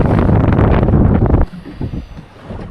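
Wind buffets the microphone hard on a small sea-fishing boat out after mackerel. A loud, rumbling roar fills the first half, then drops to a lighter, gusty rush.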